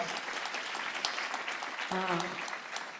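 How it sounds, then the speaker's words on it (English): Steady applause from a crowd at a ribbon-cutting event in New York, fairly distant and soft, with a voice briefly speaking over it near the end. "Let's give them a round of applause."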